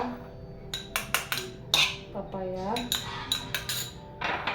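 A metal spoon stirs sugar into yogurt and papaya in a bowl, making repeated sharp clinks and scrapes against the dish in an uneven rhythm, close and clear.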